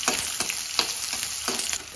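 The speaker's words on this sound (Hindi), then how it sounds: "और फिर इसमें हम प्याज डाल देंगे।" Onions frying in hot oil with curry leaves for puffed-rice namkeen, a steady close sizzle broken by several scraping stirs.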